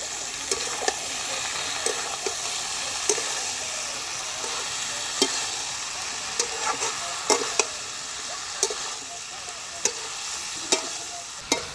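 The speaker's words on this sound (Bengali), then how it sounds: "আমি এবার আলু সেদ্ধ আর যে এঁচোড়টা সেদ্ধ করে রেখেছিলাম সেটা দিয়ে দিচ্ছি ভিতরে, দিয়ে ভালো করে নেড়ে চেড়ে নেব" Boiled potato and green jackfruit are stirred into a sizzling spice paste for a prawn and jackfruit curry, giving a steady close frying hiss broken by repeated sharp spatula scrapes and clicks against the pan, with no voices.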